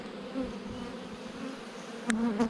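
Honeybees buzzing during a pre-spring beehive inspection, a continuous close drone with a few louder passes of individual bees near the end.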